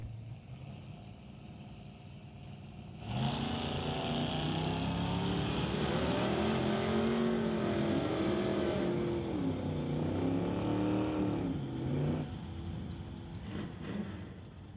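Drag race cars, a 1970 car and a 1993 Chevrolet S10, launching at an NHRA Summit ET event: a loud engine roar bursts in suddenly and holds with rising, shifting harmonics, then tapers as the cars pull away.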